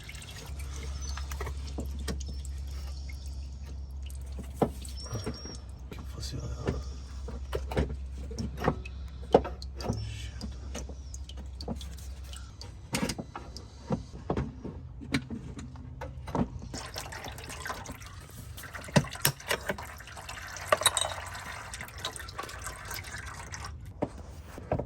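Transmission fluid drips from the pan of a Mercedes GLS X166 as it is lowered. Scattered, irregular drops land close by, some sharp and distinct, over quiet garage ambience.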